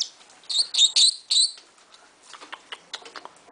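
Young hand-fed Meyer's parrots chirping close by, with a burst of shrill, repeated high-pitched calls followed by scattered softer squeaks and peeps, no talking.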